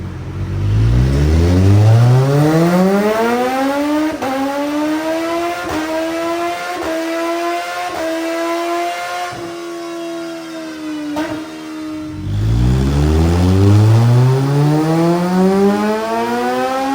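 A tuned 2022 Kawasaki Z1000SX motorcycle with a BT Moto ECU flash runs on a dyno. Its engine wails loud and close through two long full-throttle pulls, pitch climbing steadily each time, with no voices.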